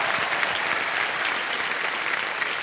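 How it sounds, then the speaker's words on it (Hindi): Steady, dense studio audience applause on a Hindi quiz show, a continuous wash of clapping at even loudness throughout, with no talk over it. "तालियां बजाएं इनके लिए।"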